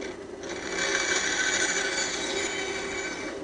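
A jigsaw cuts steadily through wood, a loud continuous buzzing rasp that keeps an even level throughout the cut with no speech.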